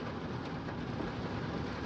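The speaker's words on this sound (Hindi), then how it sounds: "बढ़िया बारिश का मौसम" Steady, dense rain hiss fills the whole stretch, an even broadband wash with no voices, like a downpour close by.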